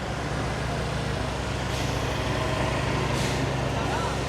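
A big truck making a U-turn on a rainy street in Da Nang, Vietnam, its engine rumbling steadily nearby amid traffic noise and wet road hiss, with two brief air hisses and someone talking over it.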